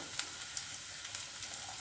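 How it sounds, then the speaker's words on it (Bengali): Sliced onion, ginger and garlic fry in a pan for egg do pyaza, a dense, even sizzle close by with a few light stirring clicks. "এটাকে ভালো করে ভেজে নিয়ে একটু হালকা সেদ্ধ হওয়া পর্যন্ত নাড়িয়ে যেতে হবে"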